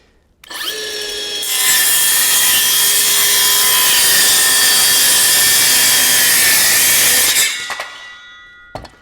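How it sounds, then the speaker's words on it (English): A Milwaukee M12 Fuel cordless circular saw spins up and then cuts through several stacked layers of plywood with a loud, steady high-pitched whine for about six seconds before winding down. "If you're listening closely, you can hear the saw working"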